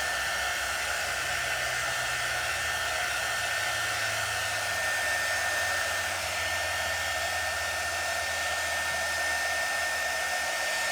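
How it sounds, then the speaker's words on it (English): Hair dryer blowing on chalk paste spread over Halloween decor, a steady loud broadband whoosh with a low motor hum running continuously, close by and without any talk. "So I'm drying this paste. This paste is chalk in paste form."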